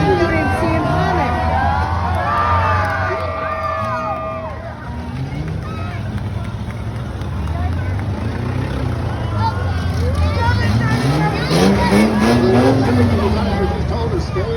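Cars rev and grind at a demolition derby, engines roaring and rising in pitch over a continuous crowd murmur, with squealing tones early on and a surging acceleration toward the end.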